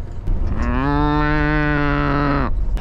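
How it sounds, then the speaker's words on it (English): A cow standing in a narrow river lets out one long, loud, close moo, held steadily for about two seconds before breaking off. "Look at that cow. Cow! He's in the water."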